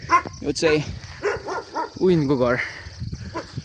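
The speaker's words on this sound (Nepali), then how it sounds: "ऊ त्यो मेरो कुकुर मतलब मामाहरूको कुकुर" A pet dog at a maternal uncle's house yips and barks in short bursts close by, mixed in with someone talking over it.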